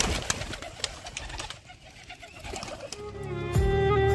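Pet pigeons coo close by, a low throaty rolling call rising near the end, over a busy background of rustling and clatter with no talking.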